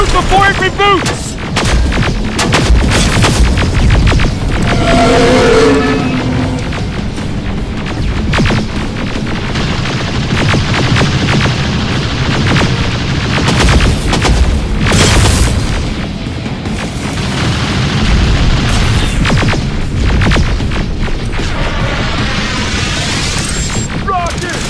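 Heavy gunfire and repeated booming explosions in the video game Terminator Resistance, a dense, loud, continuous barrage throughout, with shouted voices breaking through the combat.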